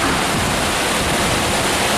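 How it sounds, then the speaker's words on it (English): Dense, steady hiss of heavy rain pouring and splashing off railway station platforms and trains in West Yorkshire, loud and continuous with no pauses or voices. "the heavens have really, really opened now. You can see the rain's just splashing."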